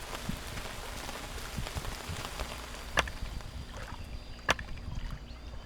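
Soft rainfall in the video game Outbound, a quiet, steady patter of drops on surfaces and water, with a couple of sharper drips standing out.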